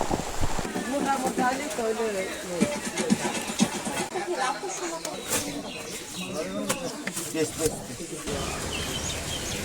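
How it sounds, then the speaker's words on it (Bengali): Rain falling on a flooded hill market, a dense steady patter throughout, with voices and some bird calls mixed in. "বৃষ্টি এখন মোটামুটি কিছুটা কমছে আগের তুলনায়।"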